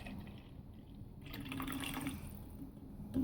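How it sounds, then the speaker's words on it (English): Liquid poured into a secondary settling tank in a small wastewater treatment demonstration makes a faint, close splashing trickle that swells midway and continues unevenly, with no talk over it. "we're going to pour it into the secondary settling tank"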